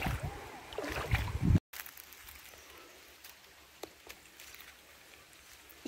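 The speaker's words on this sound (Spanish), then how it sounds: "Aquí sí pueden escuchar el ruido del agua, que es muy relajante." A clean, shallow river flows with a soft, steady wash outdoors, louder rushing bursts at first, then a brief cut and a quieter continuous trickle with occasional splashes.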